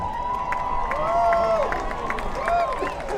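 A large crowd in the stands at a high school football game, Lawrence High versus Junction City, cheers and shouts continuously at moderate distance, the roar steady and loud with rising whoops among it.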